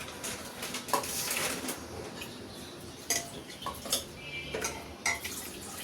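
Whole potatoes go into a cooking pot for Peshawari beef rosh, with scattered metallic clinks, knocks and scraping of utensils against the pot at close range.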